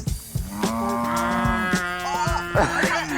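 Cattle in Australia moo repeatedly and loudly up close, several overlapping drawn-out calls from a herd with short thumps and rustles in between.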